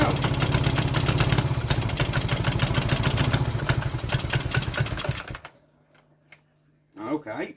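An old Stuart Turner boat engine runs close and loud with rapid, regular chugging pulses for about five seconds, then cuts out abruptly, leaving near silence before someone speaks briefly.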